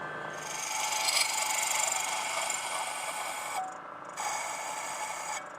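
A carbide end mill grinds into hardened metal on a mammoth cleaver, giving a steady, close, harsh rasping scrape with a brief pause near the end before cutting resumes.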